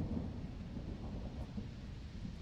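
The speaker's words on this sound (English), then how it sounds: "There's more thunder in this game than we actually get." Thunder rumbles in a video game, a low continuous rolling growl with faint rain-like hiss, steady and fairly quiet throughout with no voices.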